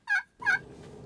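Two quick, loud gobbles from a group of wild turkeys coming over a hill, heard close and clear during a turkey hunt, with a low outdoor rumble afterward.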